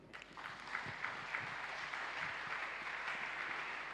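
A church congregation claps during a worship service, steady applause filling the room throughout, moderately loud and continuous with no speech over it.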